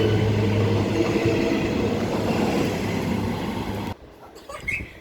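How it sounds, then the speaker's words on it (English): A Perth passenger train rumbles loudly and steadily as it drives onto a station platform, then the sound drops away abruptly to quieter ambience. "We have a Perth service driving onto platform 1"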